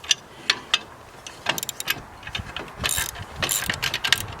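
A hand ratchet with a deep well socket clicks in short, uneven bursts while turning a bolt during a Kubota B2601 compact tractor install, close and fairly loud with some clanks between strokes.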